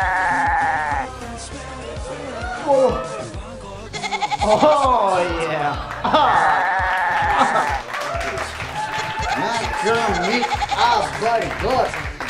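A person's voice imitates a goat, giving a run of wavering, nasal bleats in a loud, lively setting with other voices and shouting around it.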